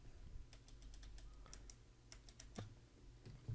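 Quiet, close keystrokes on a computer keyboard while coding a Discord bot, a quick irregular run of light clicks with brief pauses between short bursts.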